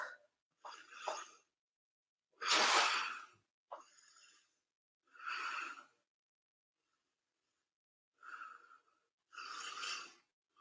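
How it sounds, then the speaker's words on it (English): A person breathing close to the microphone, a series of slow, audible inhales and exhales separated by short silences, some drawn out like sighs. "I can hear myself breathing"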